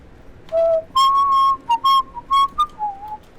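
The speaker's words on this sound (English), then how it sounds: "Little motivational whistle there." A person whistles a short tune of sustained and broken notes, loud and close, in the Vietnam War video game Rising Storm 2 during gameplay, with little other sound.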